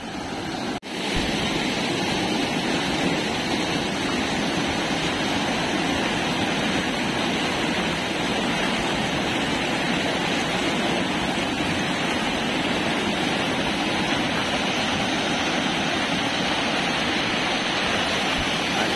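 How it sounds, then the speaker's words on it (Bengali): Water rushes steadily out through a sluice gate after two days of rain, draining toward a large river in the Sundarbans. It is a loud, continuous, close roar that fills the whole stretch with no break. "এই জল পুরো আমাদের বড় নদীতে বেরিয়ে যাচ্ছে।"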